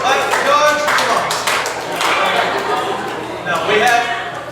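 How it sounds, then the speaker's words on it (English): Crowd at a Sleepy Creek Vineyards event in Fairmount clapping for dogs, steady moderate applause mixed with people talking over it. "You should all be clapping."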